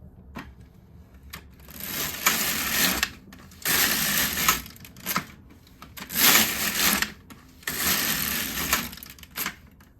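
A domestic knitting machine's carriage is pushed back and forth across the needle bed while knitting rows for a cardigan, giving four loud, clattering passes of about a second each, with short quiet gaps between them.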